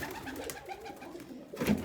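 A pigeon coos softly in low murmuring tones, with a brief louder swell near the end.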